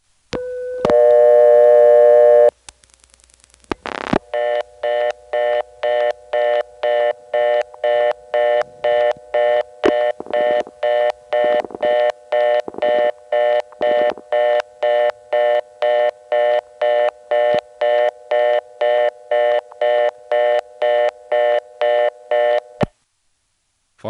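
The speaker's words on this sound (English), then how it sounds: "After we get the reorder on the 11th terminal, you can hear another caller coming into it and dialing over it." A 1977 NX1 step-by-step telephone exchange in Farmville, North Carolina, sounds a reorder tone, then a second caller cuts in and dials over it, producing a long run of evenly pulsed tone bursts, loud and clear with no talking.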